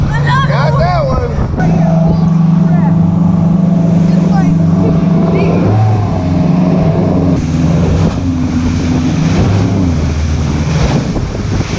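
A motorboat engine drones steadily on a windy creek during a fishing tournament while wind buffets the microphone and water rushes past, with voices talking over it at times.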